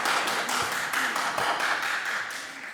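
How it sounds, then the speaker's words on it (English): An audience claps together during an artist talk by Dread Scott at SAIC's Visiting Artists Program, a steady stream of fairly faint, evenly paced claps filling the room. "you can clap, it's okay"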